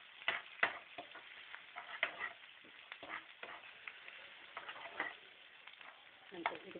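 A tempering of green and dried chillies fries in a pan, giving a faint, steady sizzle broken by soft clicks and scrapes from stirring, with no talking over it.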